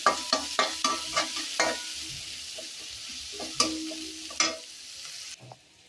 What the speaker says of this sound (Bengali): আগে এটা একটু ভাজা ভাজা করি।